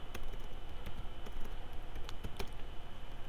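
Rapid clicky keystrokes on a computer keyboard, steady and close, typed over a continuous low background hum with no talking.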